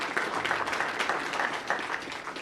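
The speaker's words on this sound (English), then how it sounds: "Round of applause." Audience applause at a town council meeting, a brief burst of dense, even clapping from a room of people at moderate volume.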